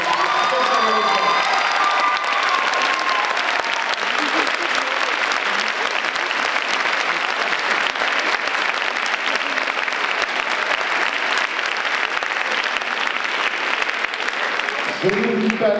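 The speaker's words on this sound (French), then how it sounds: "mise en scène par Madame Irénée Panizzi, que je vous demande d'applaudir très chaleureusement." Loud, sustained audience applause fills a hall after a dance show, a dense steady clapping that runs unbroken for about sixteen seconds with faint crowd voices mixed in.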